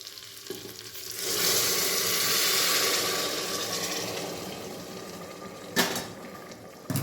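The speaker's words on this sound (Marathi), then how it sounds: "पाणी गरम केलेलं आहे मी आणि ही खिचडीमध्ये आता ओतून घेते" Hot water poured into simple khichdi in a pot, hissing and sizzling loudly for several seconds before easing into a softer simmer, with a couple of sharp utensil knocks near the end.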